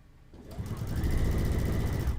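Sewing machine stitching a locking stitch on quilt binding: a steady, fast motor whir that ramps up, holds and runs continuously at close range.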